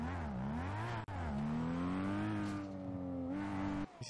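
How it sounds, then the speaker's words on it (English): An upgraded GTR's engine in GTA revving hard, the pitch climbing and dipping across several throttle swells with a brief cut near the one-second mark and a drop near the end, loud and close with no talk. "Problem is, this car's a bit loud"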